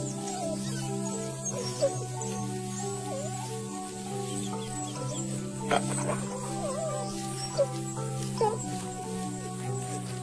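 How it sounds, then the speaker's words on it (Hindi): Pack of wild dogs with pups at play, giving soft whimpers, yips and squeaky calls scattered over a steady droning background with a few sharp knocks, with a voice talking over it. "जंगली कुत्तों का ये झुंड बहुत सामाजिक होता है और हमेशा मिलजुल कर रहता है।"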